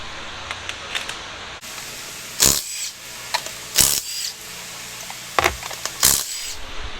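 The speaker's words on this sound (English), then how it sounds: "the first thing I'm gonna do is take off the wheel" Lug nuts coming off a Chevy Silverado wheel with a power impact tool: several short, loud rattling bursts spaced a second or so apart, with small metallic clinks and handling noises in between.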